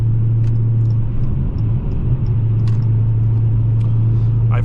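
Deep, steady exhaust rumble of a 2017 Dodge Challenger Scat Pack 392 Shaker, droning low and loud inside the cabin while someone talks over it.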